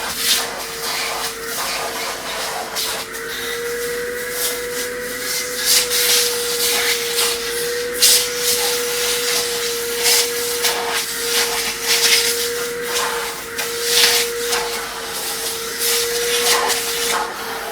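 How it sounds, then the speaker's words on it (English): A vacuum cleaner hoovers car leather seats with a steady, loud whining drone and rushing hiss, rising and falling slightly as the nozzle rubs along the seat, close up and alone. "So for that we'll use hoover."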